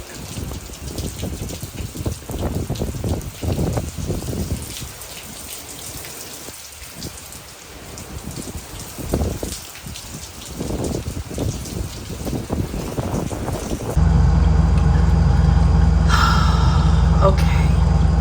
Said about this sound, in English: The wind is starting to be blown uphill down the street.